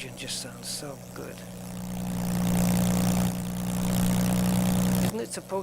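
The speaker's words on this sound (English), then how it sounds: "Oh, that engine just sounds so good." Propeller aircraft engine in Microsoft Flight Simulator, a steady low droning hum that builds and holds at a fairly loud level, with brief talk at the start and end.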